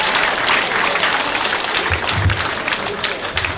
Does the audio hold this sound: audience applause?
yes